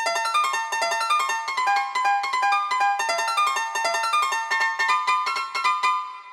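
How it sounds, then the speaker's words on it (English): A bright, bell-like Korg M1 piano preset plays a quick, repeating chord pattern, crisp attacks in a steady rhythm, clean and alone. "It's the Korg M1 piano 16 something preset."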